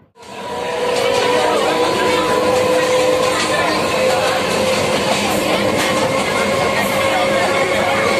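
A Naihati local commuter train in the early morning, heard from inside the carriage: a loud, steady roar of wheels and rails with a faint rhythmic clatter, lasting throughout after a quick rise at the start.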